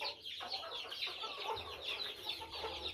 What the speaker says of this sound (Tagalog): Yung ating mga inahing manok.